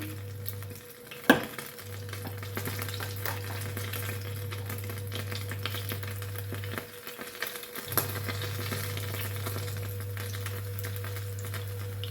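Pancake batter sizzling steadily in hot fat in a pan, a continuous frying hiss with a low hum and a couple of sharp clicks, no talking.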